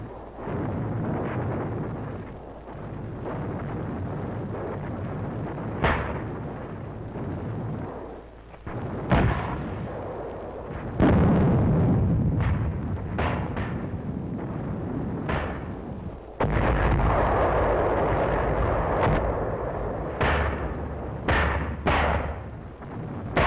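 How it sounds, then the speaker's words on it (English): Mortar and 155mm artillery fire in WWII combat on Angaur booms repeatedly, with deep rumbling blasts and sharp explosive cracks over a continuous low roar, some bursts near and loud. "We called back for mortars and 155s."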